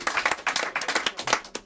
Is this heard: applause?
yes